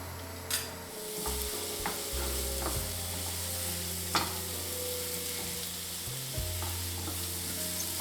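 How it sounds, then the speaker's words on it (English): Chopped garlic sautés in hot olive oil in a pan, a steady close sizzle with a few sharp clinks and scrapes of stirring scattered through, no voices. "Saute till garlic looks yellow."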